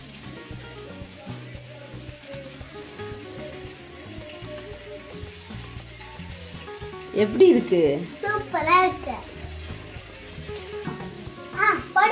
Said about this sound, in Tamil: மீன் வந்து பார்த்தீங்கன்னா எண்ணெயில் பொரிக்க மாட்டேங்க, இந்த மாதிரி தோசைக்கல்லில் தான் பொரிப்பேன்